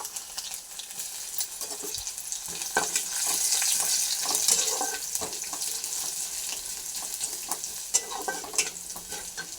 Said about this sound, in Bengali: কিছুটা রসুন কুচি দিয়ে দিলাম।